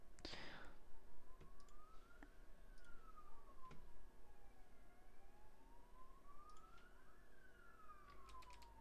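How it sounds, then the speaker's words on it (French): Police siren in a city-building game, a slow wailing tone rising and falling twice at a distance, faint over a steady ambient city hum. "Ah, ils s'amusent avec les sirènes de police, là"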